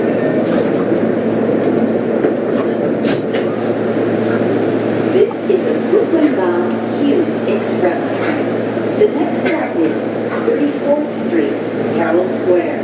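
Subway metro carriage interior with a steady low rumble of the moving train throughout, faint clicks and rattles on top, and people talking under it.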